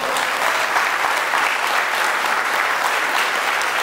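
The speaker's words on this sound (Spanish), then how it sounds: "Y le dan un fuerte aplauso al Señor." A church congregation bursts into sustained, dense applause during a worship service, many hands clapping together in a loud, steady wash that holds evenly throughout.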